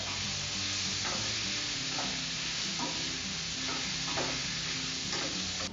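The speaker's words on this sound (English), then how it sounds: "now while the shrimp's cooking" Shrimp seasoned with Old Bay sizzles and fries in a pan for a seaweed-free seafood stew, a steady loud crackling hiss with soft stirring scrapes recurring about every second, no voices.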